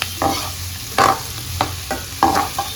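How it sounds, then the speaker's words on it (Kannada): Onions fry in a pan for homemade palak rice. A spatula stirs and scrapes in irregular bursts over a continuous close sizzle, loud and without talk. "ಸೊ ಈಗ ಈರುಳ್ಳಿನ ಸ್ವಲ್ಪ ಚೆನ್ನಾಗಿ ಫ್ರೈ ಮಾಡ್ಕೊಳ್ಳೋಣ."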